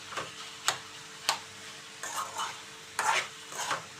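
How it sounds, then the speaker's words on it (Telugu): Ivy gourd pieces being tossed with salt and turmeric in a pan for a dry fry, giving soft scraping stir strokes and a few sharp clicks of a spoon against the pan, with faint sizzling between strokes. "ఇలా చక్కగా సాల్ట్ పసుపు వేసి కలిపేసుకొని"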